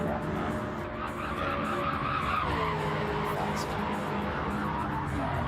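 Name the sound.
race car skidding in a racing video game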